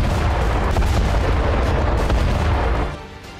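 Weapons fire explosions make a loud, continuous rumbling roar of overlapping blasts that drops away sharply near the end.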